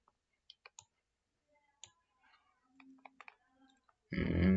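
A computer mouse clicked several times in quiet, sharp and close, followed by a louder burst of noise at the end.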